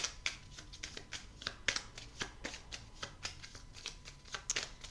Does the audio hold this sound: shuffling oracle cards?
yes